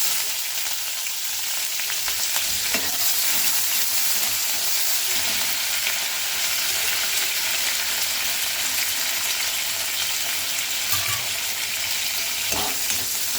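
Cumin, mustard seeds, chana dal, dried red chillies, onion, green chillies and curry leaves fry in hot oil with a steady, crackling sizzle that fills the whole stretch, with occasional sharper pops and light stirring clicks.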